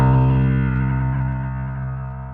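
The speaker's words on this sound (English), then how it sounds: "Here's a low piano using one of the other algorithms." A low piano tone rebuilt as a wavetable synth with a crossfading algorithm rings out as one sustained, harmonically rich note that slowly decays, fairly loud and alone.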